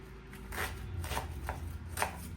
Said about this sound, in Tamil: இதை துண்டு துண்டாக சின்னனா வெட்டி எடுப்போம்